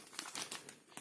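A plastic shop bag is handled at close range, giving a short burst of light crinkling and rustling with a few quick crackles.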